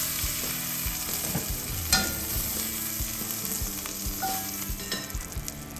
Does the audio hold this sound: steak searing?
yes